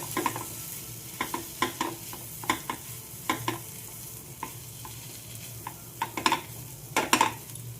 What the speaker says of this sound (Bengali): আলুগুলো সবগুলো দিয়ে দেবো এবার ভালো করে মেলাবো